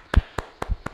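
Hand claps from children at home after a ninja exercise class: four quick, close claps, evenly spaced across about a second.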